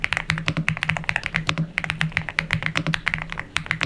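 Steady, fast typing on an Aula S75 Pro, a prebuilt 75% gasket-mount mechanical keyboard, gives a dense run of crisp, close key clacks with a soft, deep thock underneath, heard alone.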